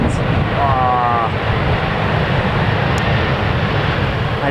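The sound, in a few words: airplane engines roaring during takeoff at Newcastle Airport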